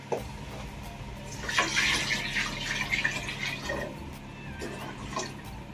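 Water runs into a pot of mung beans, a steady close splashing and gurgling stream with brief louder bursts midway.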